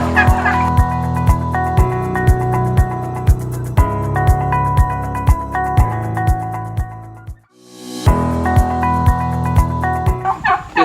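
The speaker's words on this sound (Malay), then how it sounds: "kita berada dalam kandang ayam Belanda lah kan" Turkeys in a pen on a turkey farm gobble loudly and repeatedly, with overlapping close calls and sharp rhythmic bursts, briefly pausing before the chorus resumes.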